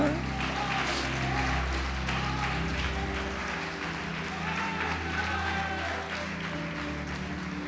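A church congregation applauding during a sermon, steady clapping over a low, droning background of music or amplified sound.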